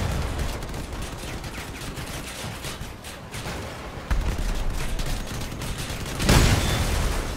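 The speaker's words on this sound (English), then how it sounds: "I'm shooting." Vehicle combat in the video game Crossout with cannon fire, a dense continuous barrage of gunfire and rumbling blasts, with a louder boom near the end.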